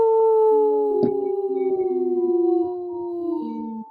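A single wolf howls in long, sustained, wavering tones, loud and close, with a second voice briefly layering over the main howl partway through.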